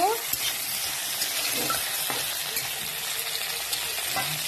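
Close, crackling sizzle of tengra fish frying in hot oil, steady throughout with occasional sharp pops and a few soft clinks.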